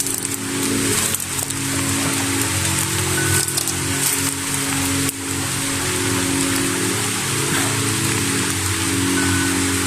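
Heavy rain falls steadily in warm sunny weather, a dense, continuous patter drumming on surfaces close by with no voices.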